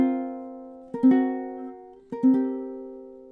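Ukulele playing measures 17 and 18 of a song, a sustained ringing chord followed by two quick strummed chord pairs, close and clear with notes decaying between strums, no talking.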